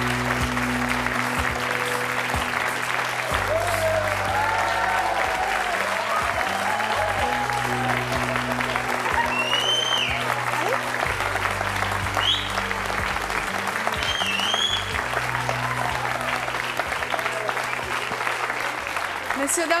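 Studio audience applause on a French television show, sustained steady clapping for about twenty seconds with a low hum, music and occasional voices running underneath.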